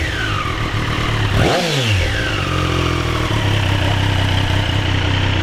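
A 2013 Triumph Street Triple R motorcycle engine idles and revs up sharply, the pitch swooping up then falling back into a steady, loud idle close by.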